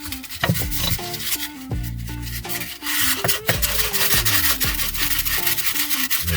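Fine 320-grit sandpaper rubs a spinning yellow and black epoxy piece on a lathe, giving a steady close scratchy hiss with short tonal motor changes and a few brief catches throughout.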